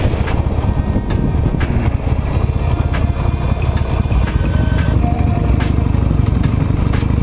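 A Harley-Davidson Nightster motorcycle rides along a street with a steady, close engine rumble that is heavily mixed with wind buffeting. The rumble holds at an even level throughout.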